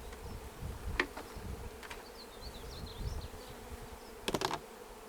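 Honey bees buzz at a low hum around a hive during colony installation, with a few louder passes close by, plus scattered clicks and knocks against a steady background.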